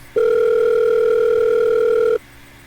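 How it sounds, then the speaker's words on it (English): Telephone ringing in the video game Doki Doki, a steady electronic tone held for about two seconds, loud and alone. "Here, phone start to ring."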